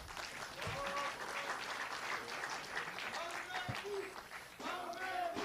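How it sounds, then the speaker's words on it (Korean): Audience applause for party leadership candidates on stage, a steady crowd clapping at moderate distance with voices and some shouting mixed in throughout. "여러분 모두 큰 박수를 부탁드리겠습니다."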